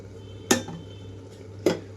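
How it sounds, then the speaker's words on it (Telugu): A metal pan set down twice on a stove burner, two sharp clanks about a second apart over a steady low kitchen hum, with no voices. "ఇక్కడైతే స్టవ్ ఆన్ చేసి పాన్ పెట్టుకున్నాను"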